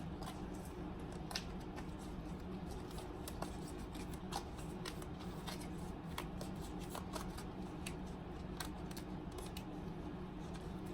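Tarot cards are shuffled by hand, giving a soft, continuous riffling and patter with irregular crisp snaps. The sound is close but fairly quiet and keeps going without pause.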